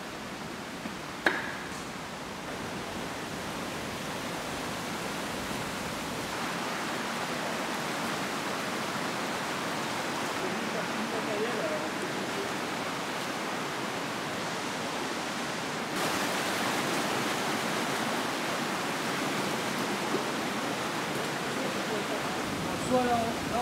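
Underground waterfall in a cave gallery, a continuous broad rush of falling water heard close and steady throughout, swelling louder midway, with a few small knocks and brief quiet voices over it.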